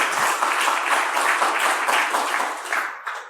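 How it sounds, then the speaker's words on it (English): An audience at a hacking and security conference talk applauds the presenter, a dense burst of many hands clapping that holds steady for a few seconds and then tapers off. "let's give Sam another round of applause."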